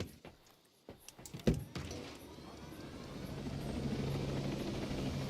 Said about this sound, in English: this helicopter's not too bad to shoot and fly